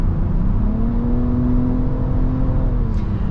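A 2022 Nissan Rogue with the new three-cylinder engine accelerates from inside the cabin, giving a steady droning engine note that rises gently. The sound is moderate and even, with road noise underneath and no voices.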